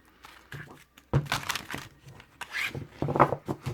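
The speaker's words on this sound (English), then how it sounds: "picture them in your mind while I shuffle" Tarot cards are shuffled close up in bursts of papery riffling and crinkling, loud and soft passages alternating over a few seconds.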